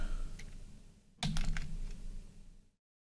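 Quiet, close clicks of fingers typing on a computer keyboard at a desk, a few sparse taps followed by a quicker burst of keystrokes before the sound cuts off.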